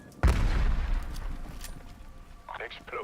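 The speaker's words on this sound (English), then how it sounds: "Explosions." Explosions in the video game Call of Duty: Vanguard Zombies, a loud booming blast at the start followed by rumbling gunfire-like bursts that fade, with a brief higher sound near the end.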